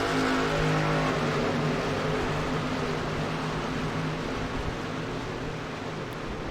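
Race trucks roar off the start at Pocono in the iRacing Truck Series, a dense, steady engine drone with layered harmonic whine, loud and continuous, no voices.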